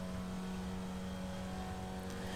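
A race car in the iRacing simulator runs flat out in fourth gear through a fast kink, its engine holding a steady, sustained high-revving drone at moderate level.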